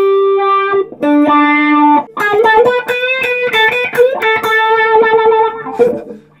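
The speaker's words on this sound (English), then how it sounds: "I change the sound, change the tone of the guitar sound like this." An electric guitar plays through a wah-wah pedal in a live performance, with sustained bent notes followed by quick melodic runs whose tone sweeps and shifts. No voices are heard.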